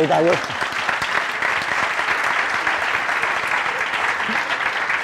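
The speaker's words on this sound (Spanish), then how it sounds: "Un aplauso a todos." Dense, steady audience applause fills a lecture hall after a talk, loud and sustained for the whole stretch, with a brief voice at the very start.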